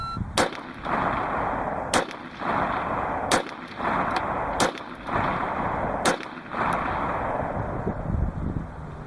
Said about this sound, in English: I actually did register all 5 shots this time.